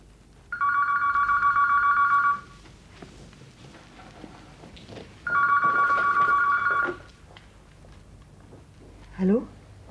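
A telephone rings in two long electronic bursts separated by a pause, close and clear, and a short voice comes in right at the end.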